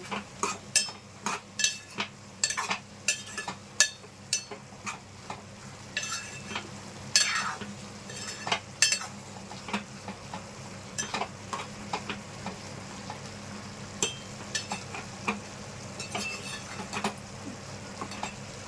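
Ridge gourd curry being stirred in a pan with a spoon, giving repeated scraping clinks against the metal over a soft, steady simmering sizzle, with no talk.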